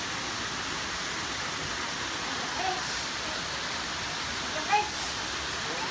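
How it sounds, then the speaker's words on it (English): Steady, even rushing of flowing water in a Japanese garden, like a fountain or small cascade, fairly close, with a couple of faint brief sounds over it. "Water."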